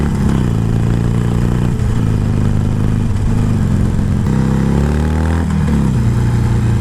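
A Harley-Davidson Iron 883 Sportster motorcycle on a test ride, its engine droning loud and continuous with shifting revs and mechanical clatter close to the microphone.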